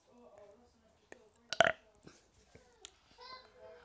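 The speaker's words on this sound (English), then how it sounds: "That was like a liquidy burp." A wet, liquidy burp erupts loudly and briefly near the middle, close and gurgling, with soft talk and small mouth noises around it.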